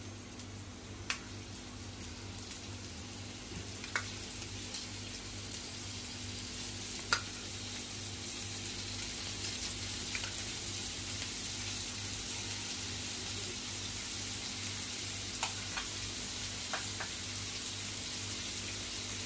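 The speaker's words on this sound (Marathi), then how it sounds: "तव्यावरती आपण भेंडी टाकून झालेली आहे सगळी। आता आपण साईडने तेल सोडायचं आहे।" Okra frying on a tawa with oil poured around the sides, giving a steady faint sizzle with occasional small pops over a constant low hum.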